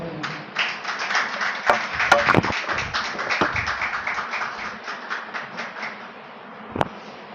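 A church congregation claps after a sermon, a burst of many hands that starts loud and uneven, then settles into a thinner, steadier rhythm before fading, with one sharp clap near the end.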